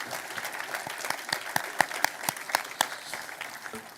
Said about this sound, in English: Should we give another round of applause to that outstanding panel?